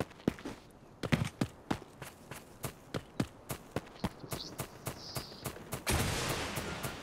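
Gunfire in the mobile shooter Delta Force Mobile: a string of sharp single shots at an even, steady pace, followed by a louder burst of noisy rumble near the end.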